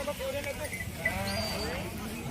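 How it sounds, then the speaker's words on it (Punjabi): A Noori breed goat with white ears bleats close by at a goat fair in a few short, wavering calls, with a steady low rumble of background noise underneath. "ਇਹ ਬੱਕਰੀ ਹੈ ਜੀ"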